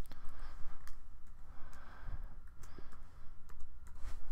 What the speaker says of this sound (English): I'm a bit of a peck typer